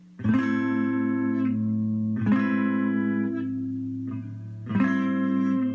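A guitar strums a sequence of chords, each struck crisply and left to ring, four strums spaced about two seconds apart with no voices present.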